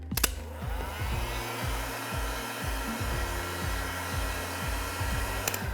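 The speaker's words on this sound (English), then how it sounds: "When you're using the heat gun, always ensure that you're stirring at the same time" A heat gun blows steadily close by while chocolate is melted, its airflow a constant broadband rush, with a rhythmic low scraping from stirring underneath and a couple of sharp clicks at the start and end.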